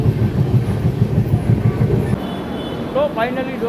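A passenger train moving through Gujarat, heard from inside a carriage: a rhythmic rumbling clatter of wheels that eases after a couple of seconds, with a brief voice near the end.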